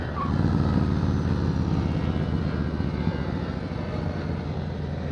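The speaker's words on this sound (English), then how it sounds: "Plane directly overhead of me." A low, steady engine rumble of an aircraft passing overhead, fairly faint and continuous, with a rough droning texture.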